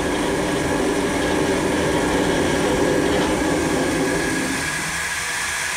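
Home heating unit fan in a preowned model home, a loud steady broadband roar with a grinding, rattling texture from a failing bearing, easing slightly near the end, with no talking.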